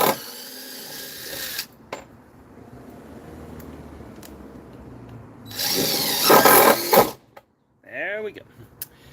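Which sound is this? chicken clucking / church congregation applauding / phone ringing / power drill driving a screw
power drill driving a screw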